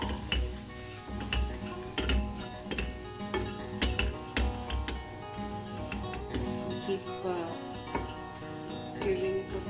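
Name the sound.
stirring semolina in a pan on low flame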